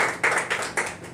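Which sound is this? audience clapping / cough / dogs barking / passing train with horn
audience clapping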